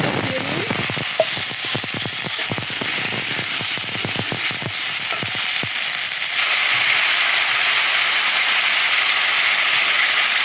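Steady hiss of potatoes frying in hot oil in a kadai, with a burst of sharp crackles and pops early on that settles into an even sizzle.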